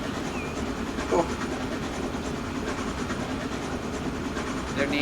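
Simulated train rolling along a line in the management game Transport Fever 2, a steady rumbling drone with faint rhythmic clatter, running continuously at moderate level with no talk.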